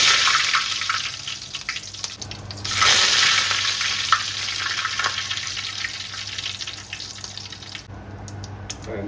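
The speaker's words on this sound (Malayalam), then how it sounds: "കടുകിടുവാണ്" Mustard seeds spluttering in hot oil in a Kerala uruli pan for a liver curry: a steady, dense crackling sizzle, close and fairly loud, swelling in the middle and easing off near the end, with no talking.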